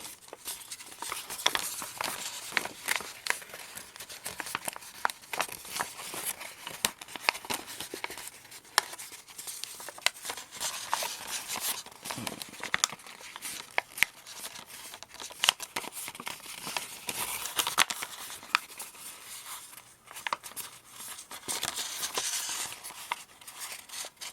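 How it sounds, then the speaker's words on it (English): Paper being folded and pinched into creases for an origami superhero figure: a steady stream of close, soft crinkling and rustling with small sharp crackles, and no talk. "we'll pinch in along where the fold should actually be"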